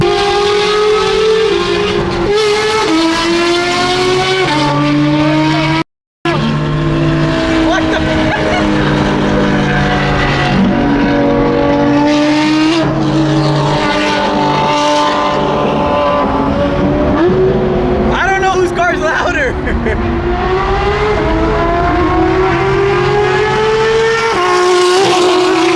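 Supercars, including Travis Scott's LaFerrari, rev hard at a crowded car meet, several loud engines layering sustained, shifting roars with sharp rises and a brief cut of silence partway through.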